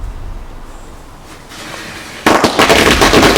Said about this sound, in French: L'explosion de la PlayStation 3 qui ne marche plus.